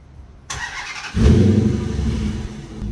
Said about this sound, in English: And your car has turned on.